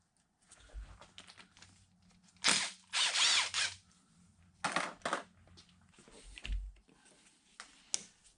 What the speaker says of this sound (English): There's this big collar on this end of the lead screw that looks like it's held in place with some set screws. I'm backing them off.